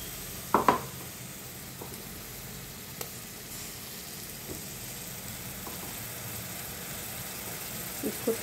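Grated onion frying in a pan over medium-high flame while making palak paneer, a steady soft sizzle throughout with a few brief clinks of a utensil against the pan.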